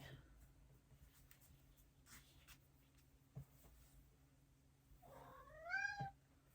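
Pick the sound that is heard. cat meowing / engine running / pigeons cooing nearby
cat meowing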